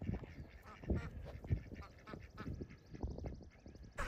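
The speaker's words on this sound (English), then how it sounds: "The ducks are freaking out and that's on me" Farm ducks quacking in alarm as a young Old English Sheepdog puppy approaches, a rapid scatter of short quacks from several birds, fairly faint and close, with a brighter burst at the end.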